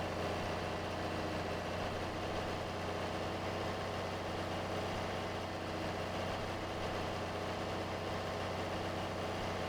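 John Deere 4020 tractor with front wheel assist in Farming Simulator 22, its engine running at a steady idle, a constant low droning rumble with even vibration and no change in pitch throughout.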